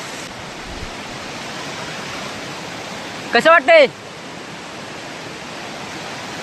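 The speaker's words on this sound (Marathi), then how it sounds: "तुम्ही बघताय अशा वेळी पाण्याचा प्रवाह किती जोरात वाढलेला आहे" Fast-flowing stream water rushes steadily and loudly throughout, a constant broadband roar, briefly interrupted by a short spoken question in the middle.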